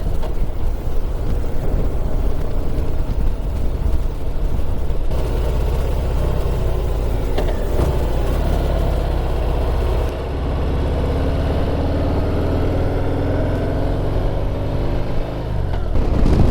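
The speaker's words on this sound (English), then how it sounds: "the first one we're taking out today is the big comfy cruiser, the Harley-Davidson Heritage Softail Classic" A Harley-Davidson Heritage Softail Classic cruiser motorcycle is out on the road. Its engine gives a loud, constant low drone mixed with rushing wind noise, and no one talks.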